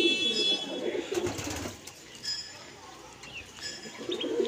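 Pigeons kept for sale at a home loft coo in soft rolling bursts, close by, with a few thin chirps and quieter gaps between calls.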